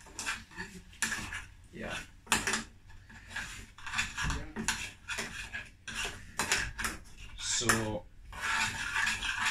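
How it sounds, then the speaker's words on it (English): Garlic is stirred in a pot while cooking braaied chicken with pap, giving clinks and scrapes of a utensil against cookware, mixed with a person talking over it. "before I put my meal in there, I want to stir up a garlic"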